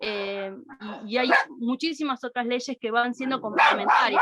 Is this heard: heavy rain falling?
no